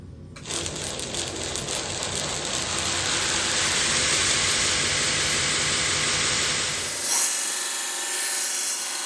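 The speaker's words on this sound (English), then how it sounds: "Got a used 80 grit ceramic belt on here. And we're just working it back and forth." An 80 grit ceramic belt runs on a belt grinder against the flat platen and work rest as a straight razor blade is worked back and forth, giving a loud continuous abrasive whir with scraping texture that drops away near the end.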